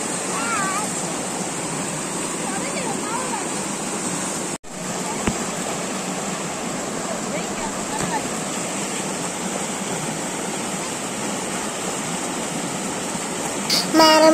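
Marmala waterfall roars as a steady, dense rush of falling water, close and unbroken throughout, with only a brief dropout partway through.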